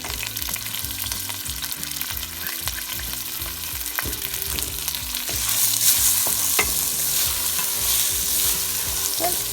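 Washed rice frying in hot oil for chicken pilaf is stirred in a steel pot, with a steady loud sizzle and rhythmic scraping strokes that grow slightly louder toward the end.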